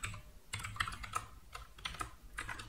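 Rapid, uneven keystrokes on a computer keyboard while coding a solution to a competitive programming problem, close and fairly quiet, with bursts of clicks and short pauses and no talking.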